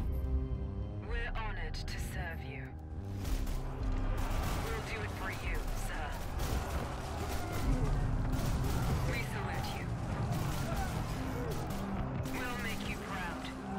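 Sniper fire and battle noise in the real-time strategy game Dune Spice Wars, during an Atreides skirmish: a steady, crowded din of shots and impacts over about fourteen seconds, layered with game effects and some talk.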